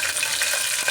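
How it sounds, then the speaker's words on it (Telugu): Chopped onion and green chilli frying in hot oil with dried red chillies and tempering seeds in a cooker, a steady close sizzle and crackle with no voices. "ఇప్పుడు ఇందులోకి కట్ చేసి పెట్టుకున్న ఆనియన్"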